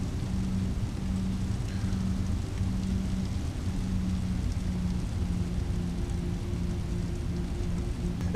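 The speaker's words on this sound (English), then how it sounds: "It is really wet in Heathrow today. Rain is relentless almost." Steady rain falling at Heathrow in a flight simulator, a constant soft hiss with a low, intermittent pulsing hum underneath, even and moderately loud with no voices.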